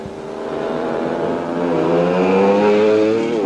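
Go-karts race around a track in the Soviet Union, small engines buzzing loudly and close, their droning whine rising in pitch as they accelerate past.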